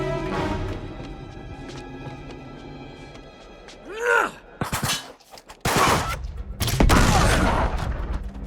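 Gunfire in the video game Uncharted 3: Drake's Deception, loud broadband shots and crashes in the second half of the clip, coming after a stretch of quieter game sound with a voice audible in places.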